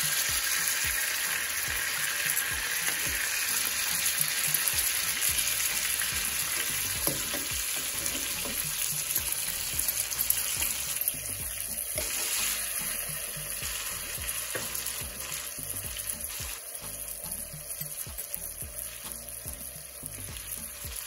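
Minced garlic sizzles steadily in a hot pan for honey garlic salmon, a continuous close frying hiss with occasional stirring.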